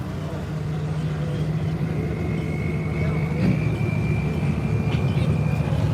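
Duramax diesel pulling truck at a truck and tractor pull, a loud continuous engine drone with a rising whine, heard over crowd noise and an announcer talking.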